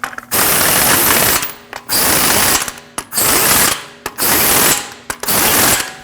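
Wheel lug nuts on a 2014-2023 Jeep Cherokee 2.4L are snugged with a ratchet in five loud, close, rattling bursts of about a second each, separated by brief pauses.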